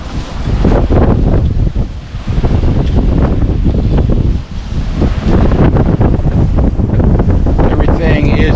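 Strong wind roars across the microphone while big ocean waves, up to about 15 feet, break and rush around a single-handed sailboat at sea in 30-knot winds, a loud, continuous surge with brief lulls and swells throughout.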